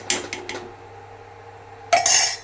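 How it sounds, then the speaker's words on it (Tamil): A metal lid clanks onto a pot of sambar, a few quick clinks at first and then a louder ringing clatter as it settles, close by with no talk. "மூடி போட்டு மூடி வச்சுருங்க"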